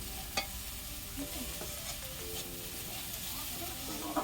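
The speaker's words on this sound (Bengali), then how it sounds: "শাক ভাজা হয়ে গেছে" Red amaranth greens stir-fry in a pan with a steady close sizzle, spatula scrapes and a few sharp clinks over about four seconds, and no voices.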